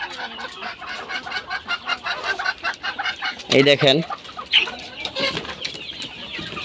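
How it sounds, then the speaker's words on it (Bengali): Hill hens and roosters kept together in a flock cluck in rapid, overlapping bursts nearby, with a sudden flurry of wing flapping partway through and someone briefly speaking. "এখানে কয়েকটা পাহাড়ি মুরগি হাড়ি মোরগ আছে"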